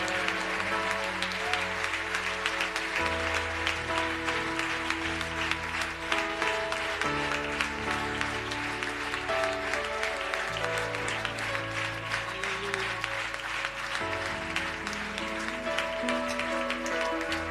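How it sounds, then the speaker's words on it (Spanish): A church congregation claps for a long stretch while music with sustained tones plays underneath, the applause steady and fairly even throughout. "Si lo va a aplaudir, hágalo más fuerte."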